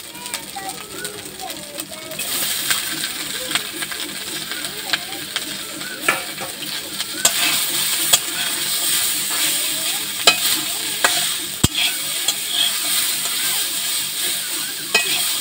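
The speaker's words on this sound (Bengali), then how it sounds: "আমি এখানে কাঁচা টমেটোগুলো দিয়ে দেবো।" Green tomatoes fry with ginger-chili paste in a pan, a continuous close sizzle broken by scraping stir strokes, with faint bird coos in the background.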